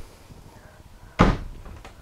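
A full-length kitchen drawer on ball bearing glides in a 2017 Grand Design Imagine 2800BH travel trailer shuts with one sharp, close thud and a brief rattle after a quiet stretch.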